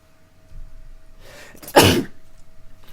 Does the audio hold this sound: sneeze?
yes